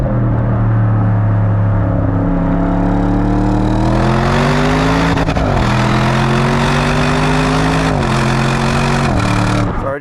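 A 2024 Audi RS 6 Avant's modern V8 with full emissions equipment revs up strongly, its deep, muffled exhaust rising and falling through several climbs in pitch while driving, loud and continuous with faint talk beneath.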